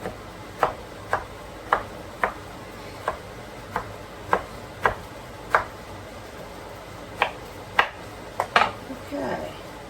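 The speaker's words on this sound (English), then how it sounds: "I'm just going to rough chop them, just so you don't get, a big ribbon of zucchini in your bites." A knife roughly chopping thin slivers of zucchini on a cutting board, a steady series of sharp close knocks at roughly half-second intervals, with a brief scrape near the end.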